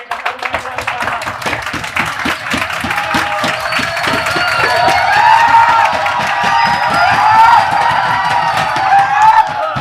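A farewell-party audience at a college breaks into applause and cheering to welcome a speaker, dense clapping and whoops building in loudness and holding steady over about ten seconds, close and full.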